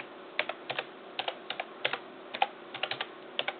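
Someone types on a computer keyboard in short, irregular runs of soft, close key clicks. The clicks are quiet and come alone, with no voices.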